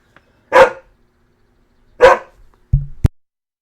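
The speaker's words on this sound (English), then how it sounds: "Stop barking." A dog barks twice in sharp, close single woofs about a second and a half apart, then gives a short low grumble and a final clipped yip, with quiet pauses between.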